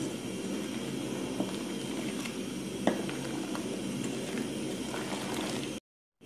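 Sugar being stirred in a simmering pot while making Chadian caramel flan (hallou), a steady close bubbling and scraping texture with a few faint clinks, running evenly before cutting to silence at the end.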